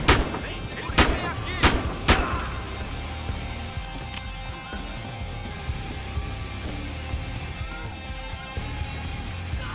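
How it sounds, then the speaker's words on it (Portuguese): Sharp gunshots crack early, then continuous rattling gunfire and booming blasts roll on steadily in Battlefield Hardline, loud and dense throughout. "Explosões atirando por todo lugar"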